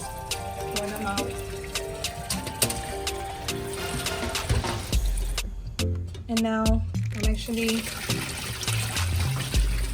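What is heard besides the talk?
water being drained out after steaming crab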